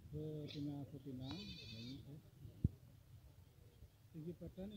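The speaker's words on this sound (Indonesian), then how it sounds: "Guys, ini ada kambing jenis Setawa." Setawa goat, a young nanny with kids at a livestock market, giving several short wavering bleats close by, with a sharp knock in the middle and faint background noise.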